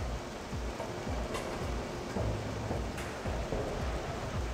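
Steady rain hisses across a bridge at night in Hitman 2: Silent Assassin, a constant soft wash of falling water with faint patter and occasional low rumbles, quiet and without voices.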